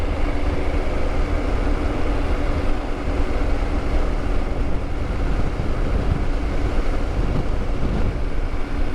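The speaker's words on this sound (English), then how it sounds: "Got a little wind coming off the mountain, also wind gust." Wind gusts buffet a Triumph Tiger 900 riding two-up on a mountain road toward Salmon, Idaho, a steady loud broadband roar of wind noise and engine drone throughout, with no talking.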